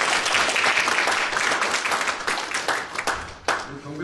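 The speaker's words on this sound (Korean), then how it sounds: "수고한 모든 찬양팀에 크게 박수" Loud applause from a church congregation for the worship team, dense clapping that gradually thins out over a few seconds.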